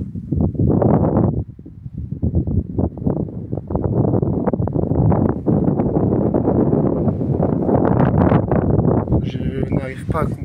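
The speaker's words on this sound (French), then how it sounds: "il y a vraiment pas mal de vent en fait" Strong outdoor wind around old bunkers buffets the microphone in heavy, uneven low rumbling gusts beneath someone talking, with a brief lull before the blustering returns.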